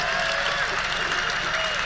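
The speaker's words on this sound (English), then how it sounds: "I've never heard so many people applaud an evasion of a simple question" An audience at a public talk on religion applauds, dense, sustained clapping filling the room, with a voice faintly audible beneath it.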